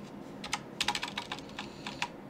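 Quick bursts of key presses on a computer keyboard as a file name is typed, an irregular run of close, light clicks with no talking.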